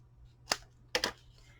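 Scissors cutting a folded paper band for a mini album, a few crisp close snips: one short cut, then a quick double snip.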